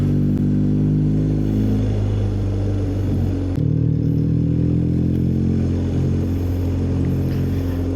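A motorcycle cruising on the open road on a long solo ride in Isabela, a steady, loud engine drone with wind rumble that briefly dips and resumes, no talking.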